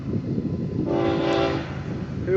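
A pair of FEC locomotives pulls an intermodal freight train past at speed, sounding a loud sustained horn chord over the steady roar and rumble of the passing train.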